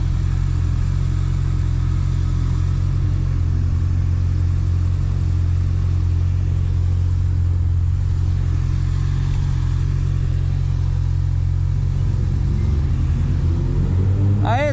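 A 2010 Honda Hornet four-cylinder motorcycle with 17,000 km on it idles with a deep, loud, continuous rumble, heard up close with a slight rise in tone near the end.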